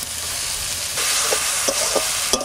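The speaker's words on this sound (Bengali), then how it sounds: "বাটা মশলাটা দিয়ে দিচ্ছি" Ground spice paste hits a hot pan with softened tomato and salt, frying with a steady loud sizzle while being stirred, with a few scraping clicks of the spoon near the end.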